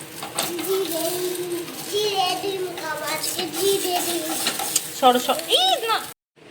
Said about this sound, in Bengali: ভাবছি একটা ডিম অমলেট করি, তাই বসিয়েছি